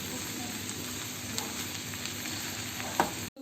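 Chicken pieces frying in a pan for chicken cutlets give off a steady close sizzle throughout, with light stirring scrapes and a soft clack near the end.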